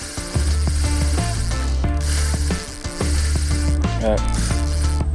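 Fishing reel drag ratchets out line in a rapid, loud clicking burr while a carp is fought, running nearly continuously with short pauses, and a voice speaks over it.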